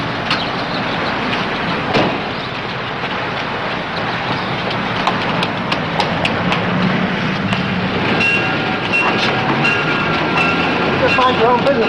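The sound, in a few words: train passing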